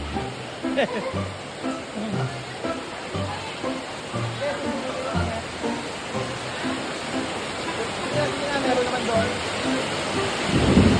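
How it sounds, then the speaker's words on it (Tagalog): Heavy typhoon rain pours steadily with low rumbles of thunder, a loud continuous wash of noise, and a voice speaks faintly beneath it. "Hindi na ulan to, bagyo na."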